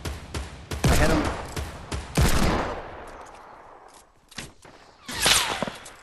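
Gunfire in a shooter video game: several loud, close volleys of shots crack out in irregular clusters, with quieter gaps and scattered single reports between them.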